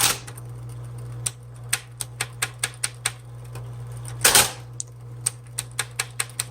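Keys on a pink 1970s Smith Corona Electra 220 electric typewriter struck one at a time, sharp close-up clacks at a steady rhythm over the machine's constant motor hum, with a brief rattling burst partway through.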